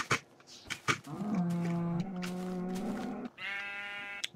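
Minecraft sheep bleating, a few wavering, drawn-out bleats close by, alone with short clicks and game sounds between them.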